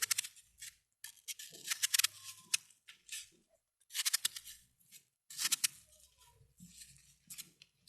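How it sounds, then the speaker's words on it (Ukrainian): A knife cuts apples into cubes for sea buckthorn and apple jam, a faint series of crisp, irregular slicing snicks and taps against a board, close by, with quiet pauses between bursts. "І ріжемо яблуко кубиками."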